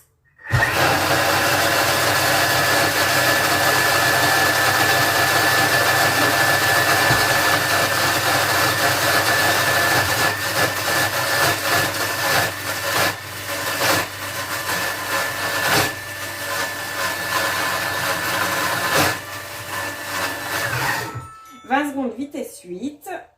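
A kitchen food processor runs at speed 8 for about twenty seconds, a loud, steady, close whirring drone that cuts off abruptly, followed by a brief voice.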